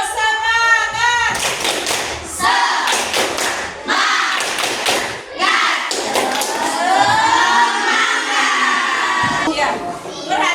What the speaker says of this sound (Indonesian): Tepuk semangat, ya. Tepuk semangat.